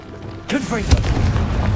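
Confringo explosion spell cast in Hogwarts Legacy fires off with a sudden deep boom after a quiet start, followed by a second heavy thump and a rumbling tail, with a spoken shout over the blast.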